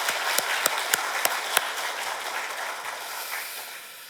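A church congregation claps during a Sunday service, a dense wash of applause with several sharp individual claps near the start before it settles into an even, fading patter.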